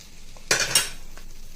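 Tempered spice oil is poured and stirred into mango pickle, giving two quick sizzling, scraping bursts of spoon against a bowl, then a faint clink over a quiet background.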